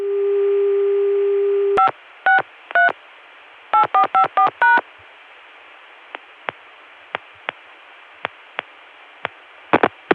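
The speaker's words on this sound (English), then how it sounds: "this time I'm going to dial 563, that code for the Baltimore Centrex, followed by an 8" Touch-tone digits 563-8-454 are dialed on a telephone line into a Baltimore Centrex, following a steady dial tone: a quick burst of three tones, a pause, one more, then three, with faint clicks after.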